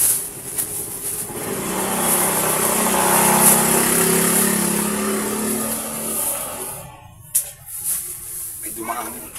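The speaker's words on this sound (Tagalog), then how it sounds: "May dumaan motor." A motorcycle passes close by outdoors, its engine swelling to a loud rumble and then fading away as it moves off, with brief voices near the end.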